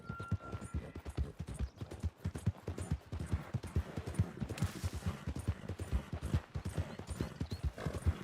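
Horse hooves gallop in Red Dead Redemption 2 at 4K Ultra settings, a steady clip-clop rhythm running throughout with occasional whinnies and distant gunfire beneath.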